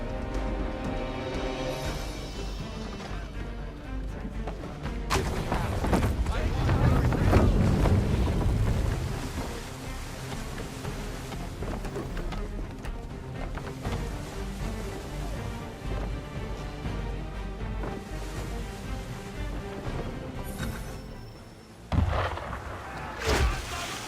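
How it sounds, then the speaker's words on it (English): Ship cannon fire at sea in Assassin's Creed 3, sharp booming blasts over steady wind and water rush, with heavier impacts early and another near the end. "Why is he shooting at us?"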